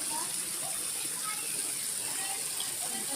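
Pool water churned by a small child on a first time in the water in Pune: a steady, loud wash of rushing, splashing water that fills the whole moment without distinct separate splashes.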